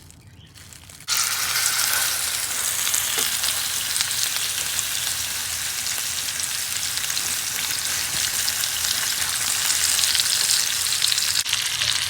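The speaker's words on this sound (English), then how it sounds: "I'm gonna put this side in the oil to start browning" Spiced leg of lamb browning in hot oil gives a loud, steady sizzle that starts abruptly about a second in and runs unbroken, close and dense, with no voices over it.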